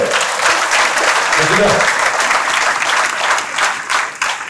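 An audience in a school or classroom setting applauds loudly to welcome a speaker, a dense, sustained wash of clapping that stays strong before tapering slightly, with voices audible underneath.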